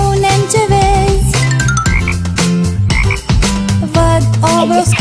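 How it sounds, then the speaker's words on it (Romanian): Croaking frog sounds set inside a busy children's educational song about animal voices, carried over constant loud music with melody and rhythm throughout. "Văd o broscuță."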